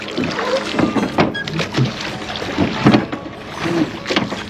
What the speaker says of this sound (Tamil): அப்படியே அழகாக போட்டிங்கை முடிச்சுட்டு அப்படியே பார்க் பண்ண போயிட்டுருக்கோம்